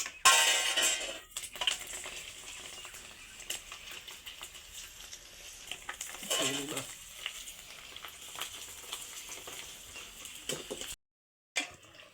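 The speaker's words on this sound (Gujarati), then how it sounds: "તો આમાં તેલ ગરમ થઈ ગયું તો મિત્રો આપણે ભૂંગળા તળીએ" Hot oil sizzles and crackles as bhungla snacks deep fry, loudest at the start, with occasional clinks of utensils and a brief silence near the end.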